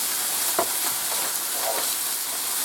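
Pork chops frying in a skillet give a steady, dense sizzle that holds at an even level throughout, with a few faint stirring scrapes and no talking.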